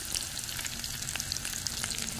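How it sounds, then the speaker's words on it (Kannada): Garlic is frying in hot oil for a South Indian tempering, giving a steady, close sizzle with fine crackling spatters and no talk over it. "ಇವಾಗ ಒಗ್ಗರಣೆಗೆ ಎಣ್ಣೆಯನ್ನು ಬಿಸಿ ಮಾಡಿದ್ದೇನೆ. ಅದಕ್ಕೆ ಇವಾಗ ಸ್ವಲ್ಪ ಬೆಳ್ಳುಳ್ಳಿಯನ್ನು ಹಾಕ್ತಾ ಇದ್ದೇನೆ."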